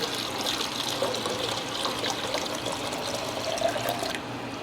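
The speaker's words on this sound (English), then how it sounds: "I'm going to go ahead and just pour this right into our container." Mixed soil mixture is poured into a plant container, giving a steady, soft rushing and trickling flow for several seconds with no talk.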